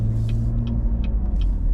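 A car drives along a road beside a golf course on Prince Edward Island, giving a steady, close low rumble of engine and tires with no voices.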